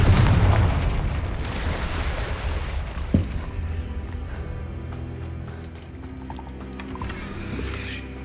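A Confringo fire spell bursts in Hogwarts Legacy: a heavy booming explosion opens loud and near, its rumble fading over several seconds, with a sharp crack midway and game effects trailing after.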